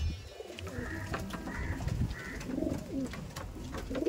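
Madrasi pigeons coo softly in a home loft, their low, repeated calls overlapping in a close, fairly quiet space.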